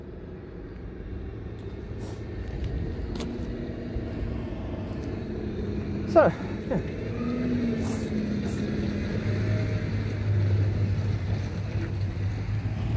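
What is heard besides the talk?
big tractor driving past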